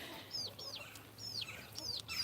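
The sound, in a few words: chickens and baby chickens clucking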